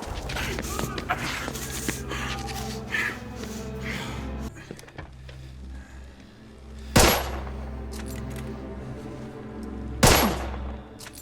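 Gunfire in The Order: 1886, with a flurry of shots and scuffling movement early, then two sharp, loud sniper cracks spaced a few seconds apart over low ambient rumble.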